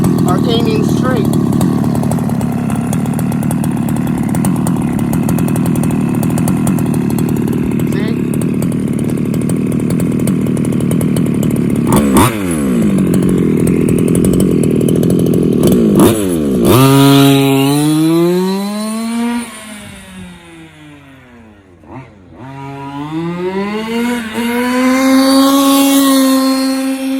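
Losi 5ive T 2.0 large-scale RC truck engine running loud and steady, then revving up and down in repeated sweeping rises and falls, dipping briefly before climbing again, with a voice heard early on.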